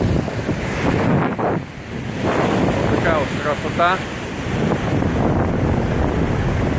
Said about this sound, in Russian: Обожаю шторм.